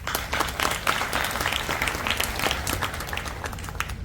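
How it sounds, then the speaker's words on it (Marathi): An audience at a spiritual talk at a festival claps steadily in dense, continuous applause that fills the whole clip, with a faint hint of voices underneath. "तुम्ही स्वतःसाठी टाळ्या वाजवा"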